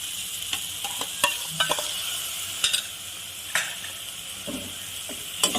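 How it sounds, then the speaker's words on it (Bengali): Mustard paste stirred into a spice masala frying in a pan for a fish curry: a continuous soft sizzle broken by sharp, irregular scrapes and knocks of the spoon against the pan, close up. "এবার আমি এখানে সর্ষে বাটাটা দিয়ে দিই"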